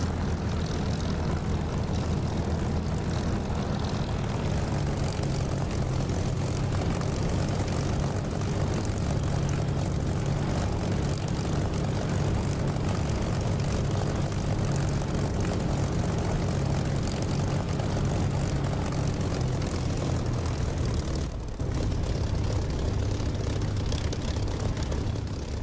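A Spitfire's propeller engine roars continuously during takeoff in a DCS flight simulator, a loud steady drone with a deep rumble that holds for about twenty-five seconds with no speech.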